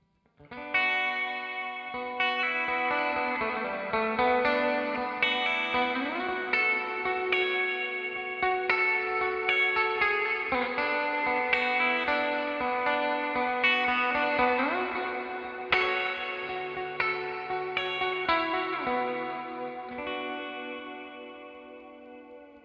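Ledges reverb pedal set to hall mode on an electric guitar, a sequence of sustained chords and notes trailing into a long, lush hall tail, steady and moderately loud throughout with no talking.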